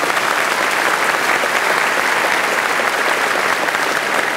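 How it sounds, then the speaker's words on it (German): A studio audience on the German TV show Wetten, dass..? bursts into steady, dense applause that fills the room loudly and evenly throughout, with no voices over it. "Und Sie klatschen nicht?"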